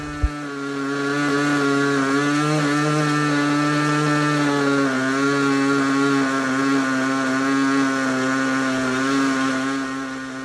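A ringed glow engine for a model airplane buzzes steadily at high revs during break-in, a continuous whining drone with slight dips and surges in pitch.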